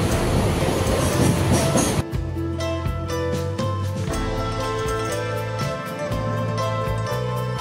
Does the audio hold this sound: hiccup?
no